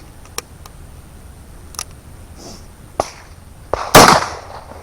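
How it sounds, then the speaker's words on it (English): One loud, sharp gunshot from reloaded ammunition fired over a chronograph during load testing cracks near the end, preceded by a few faint clicks and ticks. "One last shot."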